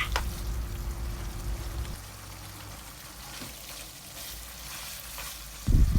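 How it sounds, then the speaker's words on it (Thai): Pieces of pork fry in a pan over medium-high heat for a Thai khi lek curry, giving a steady close sizzle with faint clatter and a louder burst near the end. "ต่อไปให้เราใส่หมูลงไปค่ะ ใส่หมูลงไปแล้ว ไฟจากที่เป็นอ่อน ๆ นะคะ ให้เราปรับเป็นไฟกลางหรือว่าไฟแรง"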